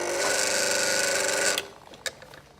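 A Breville BES920 espresso machine's built-in grinder set to 12 grinds coffee with a loud, steady gritty whir for about a second and a half, then cuts out, followed by a couple of sharp clicks.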